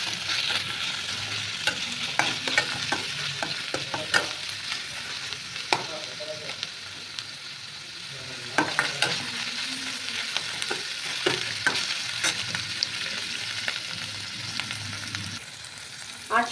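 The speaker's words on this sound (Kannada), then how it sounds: "ಸ್ವಲ್ಪ ಮೆಂತ್ಯ ಸೊಪ್ಪು, ಸ್ವಲ್ಪ ಕ್ಯಾಪ್ಸಿಕಮ್ ಫ್ರೈ ಮಾಡಿ 5 ಮಿನಿಟ್ಸ್." Fenugreek leaves and capsicum fry in a pan for egg curry, with a steady sizzle under frequent scraping and clinking stirs for several seconds, close and loud, with no voices.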